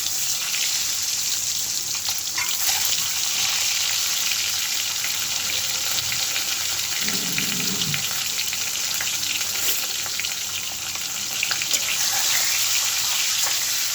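Eggs coated in turmeric and chili frying in hot oil with cumin, a loud continuous close-up sizzle with crackling spatter throughout.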